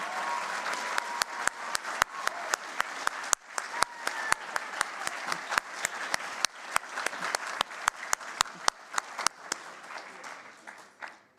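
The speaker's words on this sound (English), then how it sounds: "A round of applause now, please, for your awards committee" An audience at a broadcasting awards gala applauds its awards committee, a steady wash of many hands clapping for about eleven seconds, with sharp individual claps popping out above the dense crowd applause.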